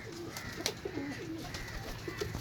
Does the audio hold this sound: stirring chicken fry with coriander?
no